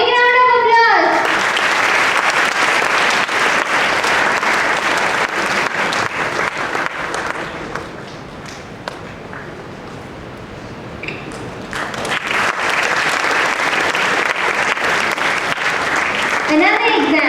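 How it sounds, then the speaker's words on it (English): Loud, sustained applause from an audience at a school award ceremony as a student is honoured, the clapping dense and continuous, dipping briefly in the middle before swelling again. A voice speaks near the start. "A big round of applause."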